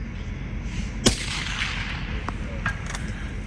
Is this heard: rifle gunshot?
yes